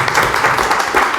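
An audience at a social innovation conference claps steadily, a dense, even patter of many hands filling the room.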